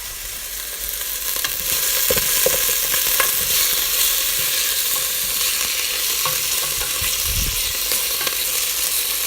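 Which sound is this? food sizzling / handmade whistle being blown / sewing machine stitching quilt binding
food sizzling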